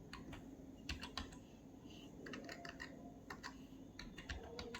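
Keys clacking on a computer keyboard while Python code is written, in irregular bursts of sharp clicks with short pauses, close and fairly quiet against a low room hum.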